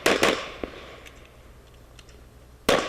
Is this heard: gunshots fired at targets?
yes